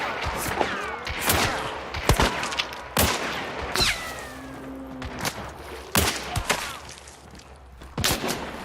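Gunshots in a monster-hunting video game, a dozen or so irregular loud cracks and thuds among scattered game effects, no talk.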